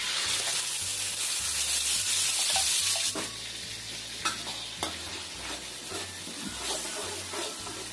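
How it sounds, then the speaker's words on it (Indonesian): Ground spice paste sizzling and frying in hot oil in a pan, a dense steady hiss with stirring scrapes and a few sharp pops, loud and close throughout. "Ini kita panaskan minyak. Kita masukkan dulu bumbu yang sudah kita haluskan tadi."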